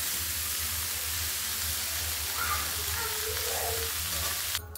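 Okra and potato chorchori frying in a pan at home, giving a steady soft sizzle and hiss with faint stirring, fairly even throughout with no talk.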